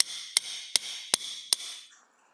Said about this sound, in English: you can always use the working channel and hammer on the proximal neck of the working channel